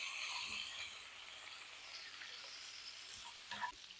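Steady, faint sizzling of meat frying in a pan, easing slightly after the first second, with a brief clatter near the end.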